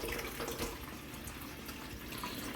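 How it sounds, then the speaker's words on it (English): A steady, soft stream of water runs into a coffee machine's reservoir, continuous and close, with a hissing, bubbly texture. "Let's go ahead and throw some water in there."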